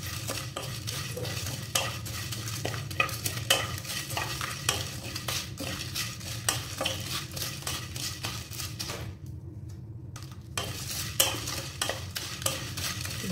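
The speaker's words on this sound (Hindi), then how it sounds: "इसको हिलाते रहें क्योंकि इसमें हमने छोटे बड़े हर टाइप के मसाले डाले हैं" Whole spices dry-roasting in a pan as a utensil stirs them, giving repeated scraping and rattling strokes over a light sizzle, with a brief pause in the stirring before it resumes.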